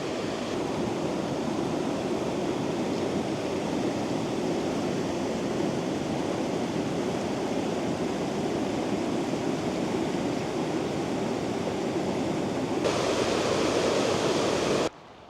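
Steady broadband rush of an ice-cold glacier meltwater stream in the Zillertal mountains of Austria, close and constant with no voices, continuing unchanged for about fifteen seconds.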